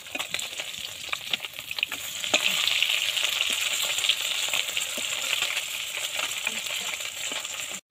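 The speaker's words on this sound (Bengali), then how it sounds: "মাছটা এক পিঠ ভাজা হয়ে গেছে" Fish sizzling in hot oil in a pan for a home-cooked Sunday lunch, a steady dense frying hiss with scattered pops and light crackles throughout, close by and continuous.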